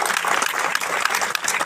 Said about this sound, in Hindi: सबसे पहले अपने लिए तालियां बजाइए जोर से।